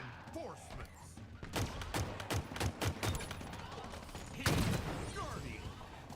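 Pistol fire in Halo, a series of sharp evenly spaced shots, about six in quick succession and then another louder blast, heard under and between ongoing talking.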